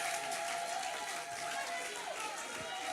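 A church congregation cheering and clapping in praise of Jesus: a dense, continuous roar of crowd acclaim and applause, loud and unbroken, with voices mixed in.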